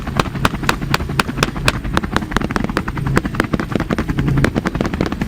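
Rapid rhythmic thumping of helicopter rotor blades, loud and close, beating steadily over a continuous engine drone.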